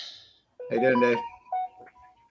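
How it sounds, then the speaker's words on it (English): A mobile phone sounds a short notification tone during a workshop chat show, heard briefly alongside a man's greeting. "That was my phone. I forgot to turn off the volume."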